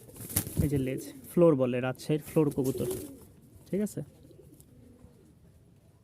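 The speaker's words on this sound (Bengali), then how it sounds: "রাজশাহীর ফ্লোর কবুতর" Rajshahi flower pigeons coo in soft, rounded bursts from close by. Someone speaks briefly among the calls, and the sound settles into quiet background toward the end.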